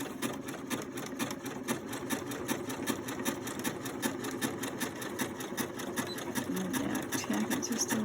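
Sewing machine stitching a cloth face mask at a slowed pace, a steady rapid mechanical needle chatter running continuously and fairly close, with no talking.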